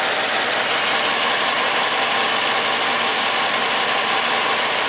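A Jeep Pentastar V6 with cylinder 4 cold idles loudly and steadily up close, its rough uneven rumble marked by a misfire after engine repair and overheating.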